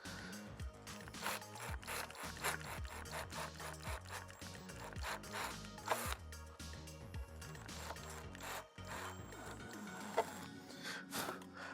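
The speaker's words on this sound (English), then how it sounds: "So as I was drilling in then, I was also pulling back." Drill boring into a prop TIE pilot chest box, a close, steady grinding and rubbing rasp with repeated bursts as the bit is pushed in and pulled back.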